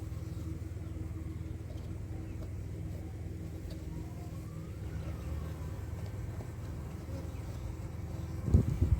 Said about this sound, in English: Got a few buzzies.